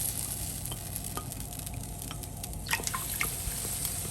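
A soy sauce mixture hits a hot pan of aromatics, setting off a steady sizzling hiss with a few splashy drips and stirring scrapes toward the end, close-up and without voices.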